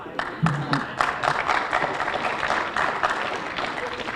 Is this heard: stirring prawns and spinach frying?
no